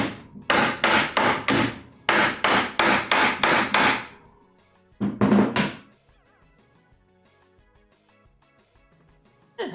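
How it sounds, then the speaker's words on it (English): Hammer blows strike a wooden CRT stand in quick rhythmic runs of sharp, loud knocks, two bursts of about six hits each, then a short pair, followed by quiet with faint background hum. "One moment, I need a hammer."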